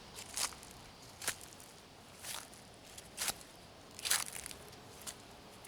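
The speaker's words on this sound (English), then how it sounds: "A little bit of crunching, not much yet." Footsteps crunch on a trail at a Wisconsin state park on the first day of fall, half a dozen soft, spaced crunches on a quiet outdoor background.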